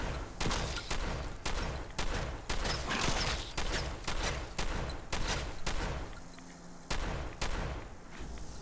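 Automatic shotgun fire in Fallout 4's Glowing Sea: a long series of loud, heavy blasts fired in a steady rhythm at roughly half-second intervals, with a brief lull near the end before a few more shots.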